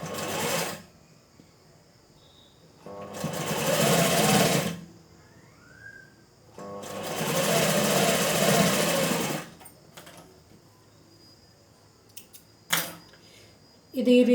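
A sewing machine stitches fabric for a dori bell design in two long, loud whirring runs of about two and four seconds, split by quiet pauses and closing with a few short clicks and taps.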